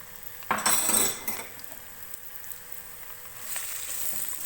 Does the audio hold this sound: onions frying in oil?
yes